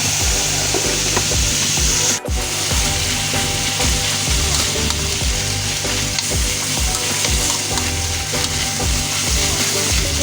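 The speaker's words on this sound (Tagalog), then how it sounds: "Hayaan lang natin siya kumulo" Pinakbet with okra, bitter gourd and minced pork simmering and sizzling loudly in a pot, a continuous bubbling crackle with a rhythmic scraping stir and one brief clunk partway through.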